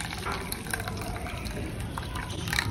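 Cooking water is poured off boiled horse gram, giving a steady, moderately close liquid trickle and splash with light clinks throughout.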